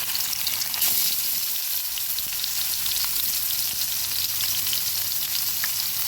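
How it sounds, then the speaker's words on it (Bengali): Salted, washed catla fish pieces frying in oil: a dense, continuous crackling sizzle fills the whole stretch, close and fairly loud, with no talking. "এক এক করে মাছগুলো ভেজে নেবো একটা কাতলা মাছ আমি সুন্দর করে নুন দিয়ে মেখে ভালো করে ধুয়ে নিয়েছি"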